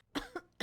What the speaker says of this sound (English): everyone in the game was coughing for some reason